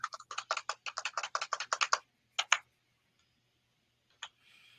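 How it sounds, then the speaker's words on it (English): Rapid bursts of typing on a computer keyboard, a dense run of clicks for two seconds, a short second flurry, then a lone keystroke, all fairly close and with no talk. "he's typing now."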